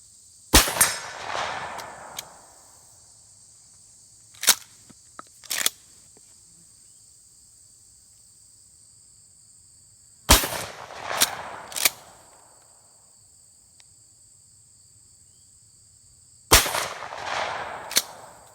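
A shotgun fires 7/8 ounce Lee key drive slugs at a target, three sharp, loud reports spaced several seconds apart, each followed by a short decaying echo, with quiet gaps and no talking.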